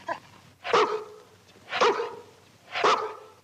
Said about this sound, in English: Be a good dog now.